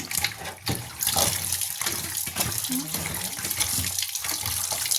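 Chicken pieces rinsed in water with turmeric powder in a home kitchen: steady running and splashing water fills the whole stretch, close and fairly loud, with a faint voice in the background.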